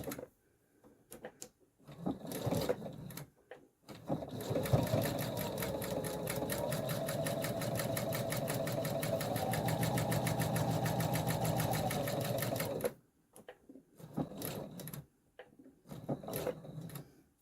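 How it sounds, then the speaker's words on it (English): Sewing machine stitches a quilt block along a marked line with a steady whirring run of about nine seconds, framed by short clicks and handling noises before and after. "we're going to sew directly on the line"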